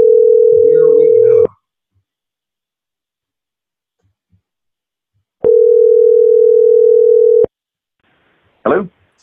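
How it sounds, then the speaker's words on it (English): A loud, steady telephone dial tone sounds in two long stretches separated by silence while a phone call is being placed, with a brief voice sound near the end. "So let me bring that phone call on."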